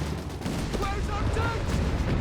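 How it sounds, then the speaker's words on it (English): Artillery barrages in the video game Company of Heroes 3 rumble as a dense, continuous run of booms and crackling blasts, with a voice talking over the battle. "More artillery barrages here."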